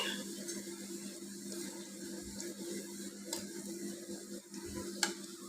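Chopped onions frying in a pan for a Bengali rohu fish curry with pointed gourd and potato, a steady soft sizzle with occasional stirring scrapes, no talk.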